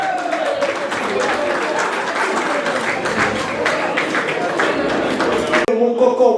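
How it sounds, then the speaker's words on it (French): Guests at a 60th birthday party applaud steadily as a couple opens the ball, continuous clapping from a crowd with music joining near the end. "veuillez applaudir le couple Nambo pour l'ouverture de bal"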